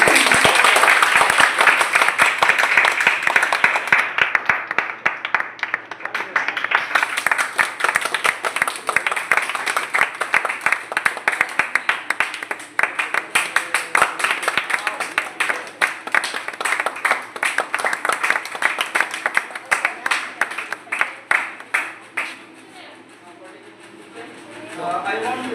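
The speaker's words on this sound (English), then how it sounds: "Clap for them." Applause for child performers at an English-language institute competition, a loud sustained burst of many hands clapping from a crowd close by, continuing for a long stretch before fading near the end as a voice begins to speak.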